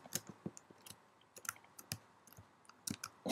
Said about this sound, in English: or else your typing will look like this.